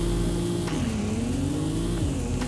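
A lightweight Nissan car in the racing video game Driving Empire accelerates with a steady droning engine whose pitch climbs, drops at a gear shift, then climbs and shifts again.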